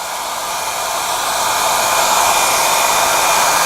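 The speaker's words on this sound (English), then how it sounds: "Doesn't dry as fast when the hair dryer's on low." A hair dryer on its low setting blows over wet paint, a steady close whooshing hum that runs unbroken and alone throughout.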